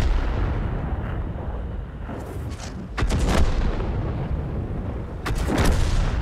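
Tank cannon fire in the World of Tanks video game during a standard battle on the Kloster map, several loud booming shots over a constant rumbling engine drone, with no talk.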